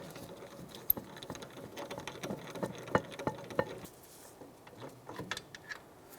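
A socket wrench works a caliper bracket bolt on a 2007-2015 Mazda CX-9 during a parking brake shoe job: quiet, close clicking and ticking in short irregular bursts, with a few sharper metallic knocks.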